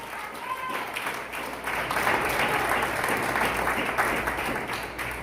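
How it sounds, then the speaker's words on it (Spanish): A church congregation breaks into sustained applause during a Spanish-language sermon, a dense wash of many hands that swells and holds steady. "Un aplauso al Señor."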